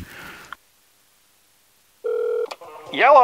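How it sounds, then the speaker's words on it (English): A telephone ringback tone sounds once, a short steady buzz after a brief dialing click, then a voice answers. "That's weird, it's ringing."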